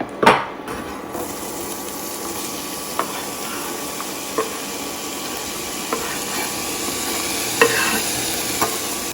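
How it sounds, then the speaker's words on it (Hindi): Onions frying in four tablespoons of butter for pav bhaji, a loud continuous sizzle with periodic spatula knocks and scrapes against the pan. "तो मैंने 4 टेबल स्पून इसमें बटर डाला है और साथ ही मैं इसमें प्याज डालूंगी।"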